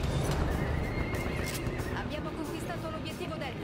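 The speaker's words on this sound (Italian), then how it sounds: "Sento già un cavallo, ma non capisco." A horse neighs and whinnies amid clip-clopping hooves in the video game Battlefield 1, with a person talking in Italian over the sounds.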